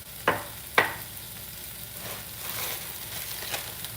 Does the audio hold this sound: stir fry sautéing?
yes